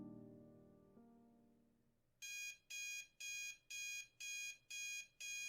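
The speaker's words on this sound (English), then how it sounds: "Her alarm was blaring." A bedside alarm clock goes off after a fading tone, beeping in seven evenly spaced loud electronic bursts, close and steady, with no voices.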